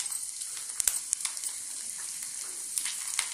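Mustard seeds, cumin, a little urad dal and dried red chilies sizzling in hot oil for a tempering, a soft steady fry with scattered small pops and crackles, close and fairly quiet.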